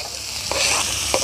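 Shrimp sautéing in a pan over an outdoor cook setup give a steady, close sizzle and fry hiss, with a couple of brief stir scrapes and no talk.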